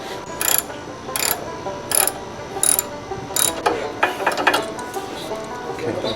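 A ratchet clicks in short bursts while tightening the bolts on motorcycle engine guards, using an extra pipe as a breaker bar: five distinct clicking runs, close and sharp, then quicker uneven clicks toward the end.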